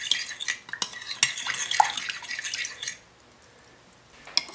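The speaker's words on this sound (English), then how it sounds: "yogurt, sugar, and water. Mix everything well." Yogurt, sugar and water whisked together in a bowl for eggless naan dough, with a steady run of quick clinking, scraping spoon strokes against the bowl that stops abruptly, then a final clink.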